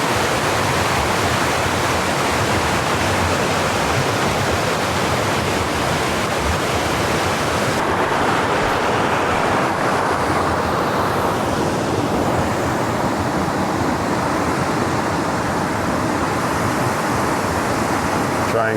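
A loud, constant roar of a waterfall in Tettegouche State Park on Minnesota's North Shore fills the whole stretch, broad and unbroken, slightly thinning partway through.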